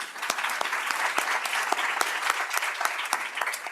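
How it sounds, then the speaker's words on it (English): A crowd claps steadily and continuously, dense applause with a few sharper individual claps standing out, no voices over it. "Let's give him a round of applause."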